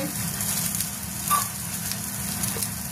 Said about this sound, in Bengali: হালকা কষা হয়ে হালকা ফ্রাই হলো, তারপর একটা টমেটো, তারপরে আদা কুচি দেবেন